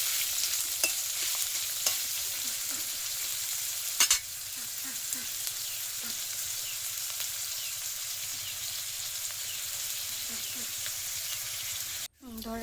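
Onions fry in a hot pan for biryani, a steady close sizzle with repeated scraping stirs, ending in a brief clatter of utensils.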